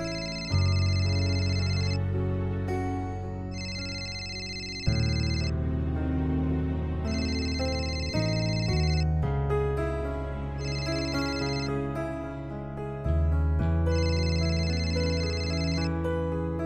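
A phone rings on an outgoing call in a Marathi TV serial scene, the ringback tone sounding as steady, repeated high bursts about four times over music, with no talk.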